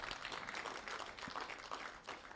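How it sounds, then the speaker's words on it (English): A conference audience at a youth, peace and security event in Nigeria applauds, a faint, even patter of many hands clapping that holds steady throughout. "And I think you should give us a round of applause."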